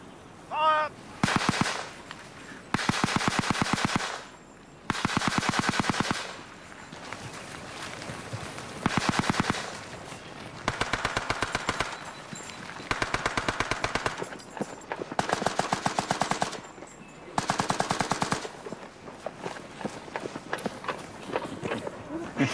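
Rapid bursts of rifle and machine-gun fire at a First World War Somme battle reenactment with cadets, repeating in loud clustered volleys with short gaps between them, while shouted commands ring out amid the noise.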